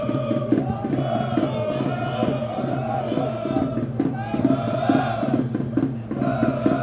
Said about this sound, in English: The crowd's going crazy.